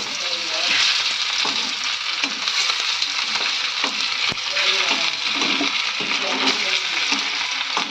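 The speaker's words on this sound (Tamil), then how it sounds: "நம்ம மீன் ஃப்ரை பண்ணிடலாம்." Fish marinated in chili powder, turmeric, salt and ginger-garlic paste frying on a hot dosa griddle, a loud, steady, close-up sizzle with scattered crackles and pops and a few faint clinks, with no voices.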